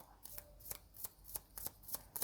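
Romance Angels oracle cards being shuffled by hand, a series of soft, crisp flicks and riffles repeating at a steady quick rhythm, quiet and close with no talking.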